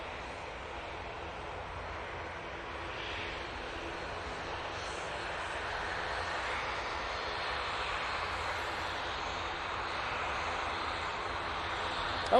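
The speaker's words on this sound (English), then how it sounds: "SAS has finally been given clearance to depart using their A380 Neo going back to" An SAS Airbus A380 departing Manchester Airport, a broad steady jet engine roar heard from a distance that slowly builds in loudness, with no talk.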